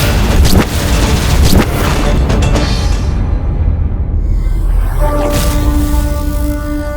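A loud, booming explosion with rumbling low end and crackling debris, followed by a sustained tonal hum as the blast fades.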